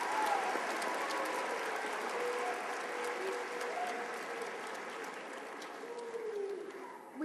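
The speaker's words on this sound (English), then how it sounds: "please join me in another round of applause and congratulations to our recipient" A round of audience applause at a community awards event, steady dense clapping from a crowd heard at moderate distance, continuing for several seconds with no talking.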